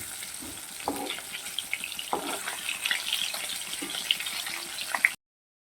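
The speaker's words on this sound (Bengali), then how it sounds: "জাস্ট আমি ভেজে নিচ্ছি" Hilsa fish pieces shallow-frying in a pan for a home lunch, a steady oily sizzle with scattered crackles and pops, close and moderately loud, with light clinks of stirring and no talking.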